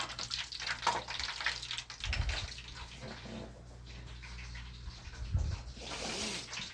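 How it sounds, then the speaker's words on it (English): Avocados deep frying in oil make a steady bubbling, crackling hiss with occasional low thumps throughout. "Fry up these avocados."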